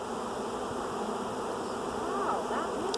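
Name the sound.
large swarm of honey bees buzzing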